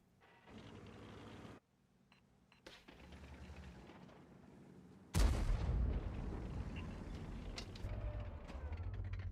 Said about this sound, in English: Some blind shots from him.